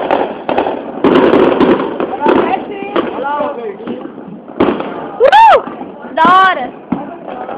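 New Year's Eve fireworks pop and crackle in the distance over Vila Haro, mixed with excited voices talking and shouting close by, including some high squeals.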